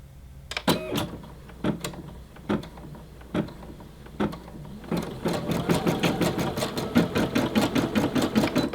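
A Brother SE600 embroidery machine stitching: a few separate clunks and whirs at first, then a fast steady run of rhythmic mechanical needle strokes, close and clear with no talking.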